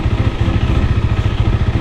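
A motorcycle engine idles up close, a loud steady low-pitched chugging with rapid even pulses and a slight clatter, with no talk over it.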